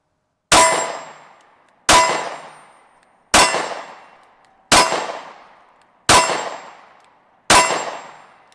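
Six evenly spaced loud, ringing impacts, each with a long decaying metallic tail, heard alone with no talk, as a .45 ACP Smith & Wesson Shield pistol is fired at a range.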